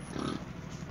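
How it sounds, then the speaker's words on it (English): Pigs on a farm grunt and oink close by, a burst of grunting early on followed by quieter snuffling over a steady low background, with no talk. "Two pigs."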